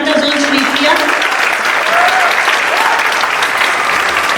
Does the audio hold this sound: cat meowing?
no